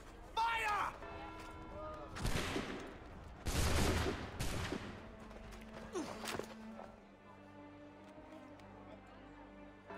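Musket volleys crack out in Assassin's Creed 3, a sharp burst followed a moment later by a heavier, longer ragged volley. Voices talk around the shots.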